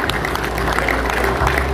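An audience in Gwangju gives loud, dense applause to welcome guests at a cider-presenting ceremony, a steady wash of many hands clapping close by for the whole stretch.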